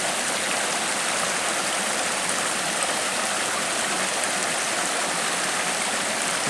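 A small waterfall on a backcountry creek in the Seneca Creek area gives a steady, loud, unbroken rush of falling water, close by and constant throughout, with no voices.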